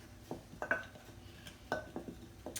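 Dry muffin ingredients with cinnamon and baking soda being stirred in a bowl, giving a few soft, irregular clinks and scrapes of utensil against the dish, faint and close.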